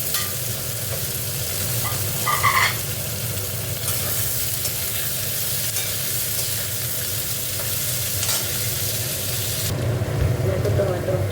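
Potato fries in a pan for a spicy bele fish dish, a dense continuous sizzle like rain, broken by a few clinks and scrapes of stirring.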